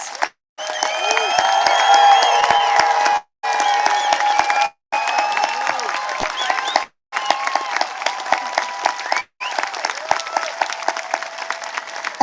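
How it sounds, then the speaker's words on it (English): A crowd applauds new American citizens at a Fourth of July naturalization ceremony at Mount Vernon, with dense, sustained clapping in several bursts separated by brief cuts, loud and close, with some cheering mixed in. "Let's have a final round of applause for America's newest citizens."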